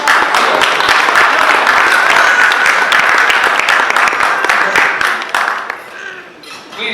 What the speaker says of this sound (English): Let's give our 5 and 10-year Rotarians a round of applause